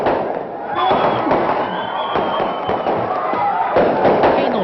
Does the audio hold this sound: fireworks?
yes